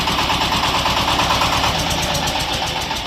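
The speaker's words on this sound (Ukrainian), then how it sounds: "Тракторець одноциліндровий, повнопривідний, 24 кінські сили." A small single-cylinder, four-wheel-drive, 24-horsepower Shifeng 244 tractor engine chugs steadily nearby, its rhythmic knocking thump continuous and loud throughout, with no talking.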